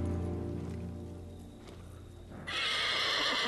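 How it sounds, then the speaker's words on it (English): A samurai horse in the video game Ghost of Tsushima whinnies, a drawn-out neigh over low ambient sound, followed by a sudden louder rushing noise near the end. "They're samurai horses."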